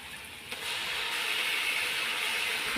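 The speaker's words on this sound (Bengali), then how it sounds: "এখন আমি দিয়ে দেবো সব মশলা বাটাগুলো" Spice pastes hit browned onions in a hot pan, setting off a sudden steady sizzling hiss that holds close and even for a few seconds.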